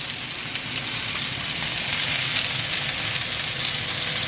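Eggplants roasting in hot oil in a pan for a spicy curry, giving a steady, close, loud sizzle and crackle of frying that continues without break and without any voices.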